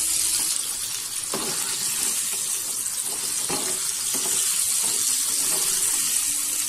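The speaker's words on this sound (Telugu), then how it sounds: "మీడియం ఫ్లేమ్ లో పెట్టి బాగా ఫ్రై చేసుకోవాలి." KFC-style popcorn chicken deep frying in hot oil on a medium flame, a continuous loud close sizzle and bubbling with a few faint clinks of a utensil stirring.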